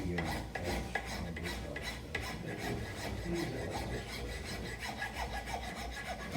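A file rasping across a wooden instrument nut held in a vise to round its edge, steady back-and-forth strokes, close and continuous with no talk.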